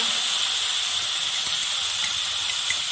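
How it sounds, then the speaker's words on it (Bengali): Onion paste sizzling in hot oil in a pan for a prawn and potato curry, a bright steady hiss with faint crackles, close and continuous with no talking. "এবার এখানে পেঁয়াজ বাটাটা দিয়ে দিচ্ছি।"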